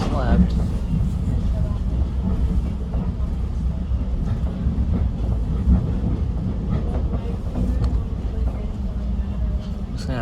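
A GO Transit commuter train rolls along the rails between downtown Toronto and Newmarket, with a continuous rumbling ride noise and faint rhythmic clatter heard from inside the car.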